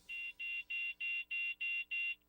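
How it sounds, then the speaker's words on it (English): A smoke detector sounds its alarm in seven loud, evenly spaced high-pitched beeps, each a clean electronic tone with short silent gaps between. "and it sounds the alarm."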